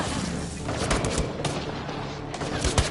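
Rapid bursts of gunfire in the sci-fi shooter Mass Effect: Andromeda, dense overlapping shots and booms crackling continuously through the scene, loud and close with scattered background voices.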